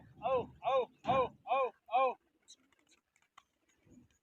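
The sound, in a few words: racing pigeons released on both sides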